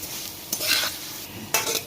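Two short scraping stirs of a utensil against a pan of vermicelli frying in oil, over a soft background sizzle, with a brief pause between them.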